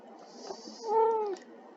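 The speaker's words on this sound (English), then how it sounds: "And of course you're going to get to hear my cat while I'm doing this." A house cat gives one clear, drawn-out meow lasting about half a second, fairly close and louder than the quiet room noise around it, which carries a faint high hiss.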